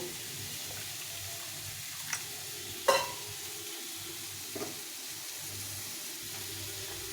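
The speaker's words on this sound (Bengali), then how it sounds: "আমরা সর্ষেটার মধ্যে জল দিয়ে গুলে নেব" Ground mustard is stirred with water in a bowl for Bengali shukto, a quiet, wet swishing close by, broken by a few soft clicks of the spoon.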